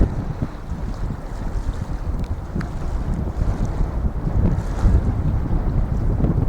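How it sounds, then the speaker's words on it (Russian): Strong wind buffets the microphone in a continuous low roar, with faint river water sounds underneath and no voices. "И ветер могучий, сильно дует, даже меня толкает"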